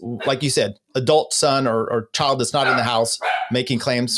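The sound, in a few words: dog barking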